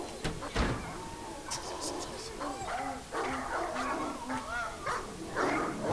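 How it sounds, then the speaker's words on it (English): Dog barking and whimpering in the video game Claire, a series of short yips and whines over a soft background, with a voice talking alongside. "so this must be when I got the dog"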